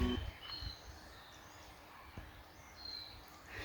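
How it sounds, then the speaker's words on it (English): Faint, distant birdsong near a creek in New Zealand, a few thin high chirps rising over a soft outdoor hush with a couple of light footstep-like knocks. "lots of birds singing"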